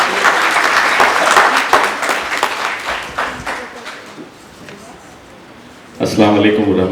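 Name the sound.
applause at book launch event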